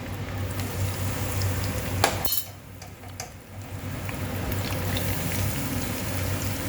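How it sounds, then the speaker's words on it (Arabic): A pot of boiling water for cooking fettuccine ribbon pasta, a steady close bubbling roll with a brief metallic clatter and splash partway through. "هنا في ميه مغليه هسلق المكرونه الشرايط او المكرونه الفيتوتشيني"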